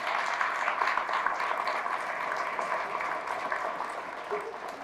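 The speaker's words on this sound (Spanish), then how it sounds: "fuertes aplausos al Señor" A congregation applauds strongly for the Lord during a Catholic Mass homily, a dense, steady wash of clapping that stays loud throughout and tapers only slightly at the end.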